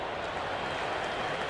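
A stadium crowd at a Pakistan versus India match in a cricket video game applauds in a dense, continuous wash of clapping and cheering, moderately loud, with a commentator's voice faintly under it.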